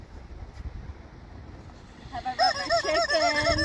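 A rubber chicken toy lets out a loud, honking squeak that rises and wavers for over a second, near and clear over faint wind and background rumble.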